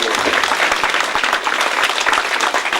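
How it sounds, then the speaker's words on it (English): Audience applause for Naeem and the staff of Sabir at a spirituality gathering, dense clapping from many hands close by, loud and continuous with uneven bursts, no voices over it. "let's just take another second to give a big round of applause to Naeem and the mighty staff of Sabir"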